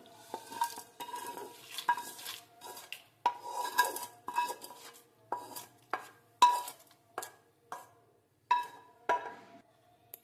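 Quiet, close spoon stirring of a tempering into idli chutney, with a steady run of scrapes and light clinks against a metal vessel, each stroke distinct, with a faint sizzle beneath.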